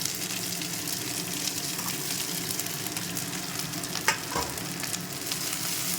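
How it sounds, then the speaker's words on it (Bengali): Grated coconut frying in hot oil in a wok, making a steady, close hiss and crackle with a brief stirring scrape midway and no talking. "নারকেলগুলোকে ভাজবো"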